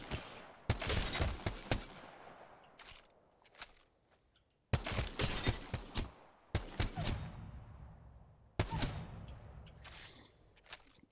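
Single G7 Scout marksman rifle shots in Apex Legends with no attachments, four sharp loud cracks spaced a couple of seconds apart, each with a short echoing tail and a faint mechanical rattle between shots.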